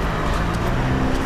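Car engine idling or running nearby, a steady loud low rumble with faint road-noise wash, continuous and without talk.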